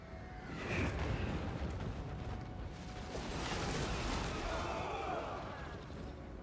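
Artillery opens fire in Total War: Warhammer III during a Grand Cathay campaign battle, rolling booms and rumbling blasts that swell and fade over a dense battlefield din, with voices over the top.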